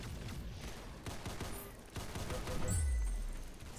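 Gunfire in the Roblox shooter Arsenal, a scatter of rapid shots and impacts amid busy game noise, with a deep whooshing boom near the end.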